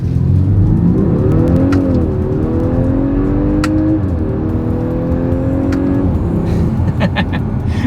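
A 2025 Audi A5 Sportback launches hard from a standstill, its engine climbing in pitch through several quick paddle-shifted gear changes, loud from inside the cabin.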